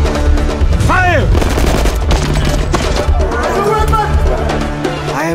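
A volley of rifle gunfire from a firing squad in a film trailer cracks out over loud dramatic music, with voices heard amid the scene.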